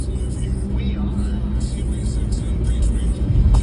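A heavy cement truck rumbles past at a traffic light, a deep engine drone that swells louder toward the end, with road noise around.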